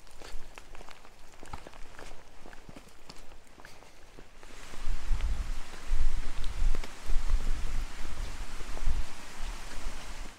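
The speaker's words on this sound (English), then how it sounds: "Bit of rain come through now." Steady rain coming through on an alpine hiking circuit north of Mt Stilwell in Kosciuszko National Park, starting softly then turning into a louder, dense hiss of drops on gear and ground after a few seconds, with footsteps underneath.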